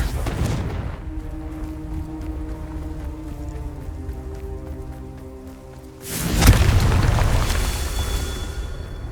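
Confringo fire spell cast in the video game Hogwarts Legacy: a sudden loud blast bursts in partway through, spreading into a broad roaring explosion with a lingering rumble, following a steady tonal game music bed.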